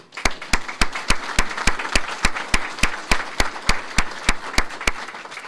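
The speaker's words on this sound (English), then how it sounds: "If we'll all give them a round of applause." Evenly spaced, sharp claps of applause at a jobs announcement event, sounding like a small group or a single clapper keeping a regular rhythm, fairly close and loud, with no talk over it.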